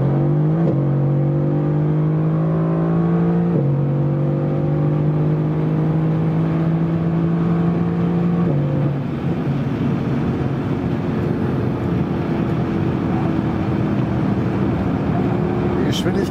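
A 2018 Mercedes-AMG GT R (C190) in Sport Plus with its exhaust flaps open accelerates hard, the loud engine note climbing through several gears with brief dips at each shift, then settling into a steady roar. A voice talks over it.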